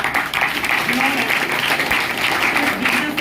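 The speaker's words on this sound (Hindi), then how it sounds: "श्री संजीव कुमार सिंह के लिए एक बार जबरदस्त तालियां" An audience at a business party meeting in Gurgaon claps steadily for a mentor, dense applause throughout with a voice faintly audible beneath it.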